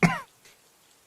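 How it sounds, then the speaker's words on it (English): A single short, sharp cough, close and clear, followed by quiet. "but now I've got this cough."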